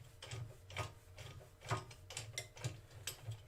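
A wood lathe chuck being undone by hand, a quiet run of rhythmic ratcheting mechanical clicks and gear turns, close and steady over about three seconds.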